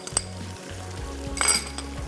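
Garlic ginger paste sizzles in hot oil with spices for a spinach and mutton pulao, a short burst of frying hiss punctuated by a few metal clinks of a utensil against the pot.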